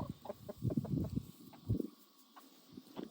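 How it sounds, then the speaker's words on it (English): A rooster gives a few soft, quiet clucks in short bursts, with brief pauses between them. "He's a pretty friendly rooster."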